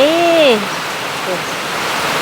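Heavy rain falls as a steady, soft hiss, with a brief voice sounding over it at the very start before the downpour continues alone.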